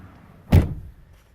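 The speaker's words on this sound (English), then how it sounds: "Close the door." The driver's door of a 1995 Toyota T100 SR5 pickup shuts with a single solid, close thud from inside the cab, followed by quiet.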